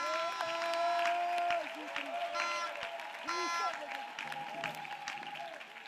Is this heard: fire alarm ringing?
no